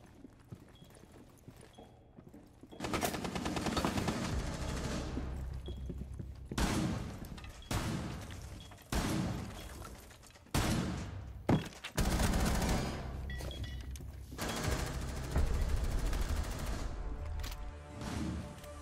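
Gunfire in Rainbow Six Siege, with bursts of shots in loud, dense stretches broken by brief pauses across the clip.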